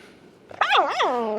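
A puppy lets out a quick, high, yelping bark that rises and falls twice, loud and close, after a moment of quiet background.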